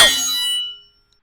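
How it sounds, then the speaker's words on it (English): A single metallic sword ring sounds as a bright clang that rings briefly and fades out within a second, alone and close. "maybe one of these sword sounds"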